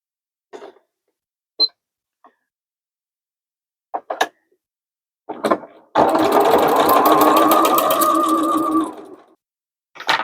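A sewing machine zigzag stitches along denim tote bag webbing handles in one steady three-second run, with a few short clicks and taps from handling beforehand, close and fairly loud.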